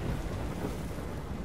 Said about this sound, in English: we're in a storm